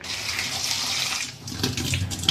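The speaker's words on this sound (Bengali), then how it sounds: "এখন ডালটা ভালো করে ধুয়ে নিব।" Soaked masoor lentils are rinsed under a running kitchen tap, a steady rush of water splashing in a bowl, briefly shifting in tone as the grains are stirred.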